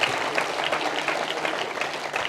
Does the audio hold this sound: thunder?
no